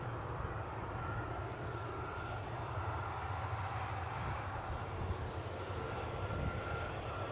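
Ryanair airliner taxiing out at Edinburgh Airport, bound for Brussels: a steady, continuous jet engine roar with a low rumble and faint whine, moderately distant, holding at an even level throughout with no talk.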